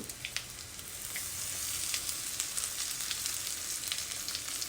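Crushed cumin and garlic paste with curry leaves frying in hot oil, a soft, steady crackling sizzle with small pops throughout, close but fairly quiet, with no talking.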